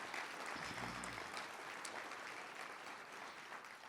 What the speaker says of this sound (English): So please give them a large round of applause.